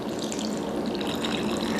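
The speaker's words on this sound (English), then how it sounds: "we're actually just going to pour it over our casserole" A steady, close stream of liquid splashes continuously as custard mixture for a savory apple and butternut squash bread pudding is poured slowly into the center of a casserole.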